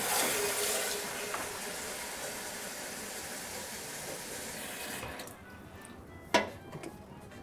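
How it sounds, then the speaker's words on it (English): Tap water runs steadily into a watering can indoors, a broad rushing hiss that stops after about five seconds, followed by a quiet clunk and faint handling sounds. "I'm gonna go get my watering can and fill it up again."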